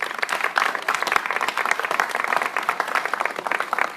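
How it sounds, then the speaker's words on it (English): An audience applauds Cambodian community guests in traditional clothing at a community show, with continuous crowd clapping that is thick and even and lasts several seconds, with no voices over it. "Let's give them a big round of applause for that."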